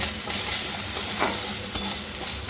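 Ginger paste and turmeric fry in a pan, giving an even, moderately loud hiss with a few soft stirring scrapes and clicks along the way, and no voices.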